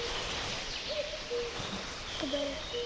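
A cuckoo calls outdoors, with a few mellow two-note calls spaced about a second apart, fairly distant against low background noise.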